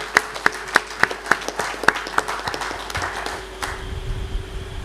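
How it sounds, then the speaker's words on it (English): Applause at a Rotary Club district governor's official visit event, starting as about nine separate sharp claps and then blending into a looser, softer smatter of clapping from a small audience. "Kindly give him a big round of applause."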